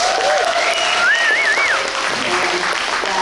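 An audience claps and cheers at a panel event on Black women's art and social change, a dense, loud wash of applause with a whistle piercing through near the start.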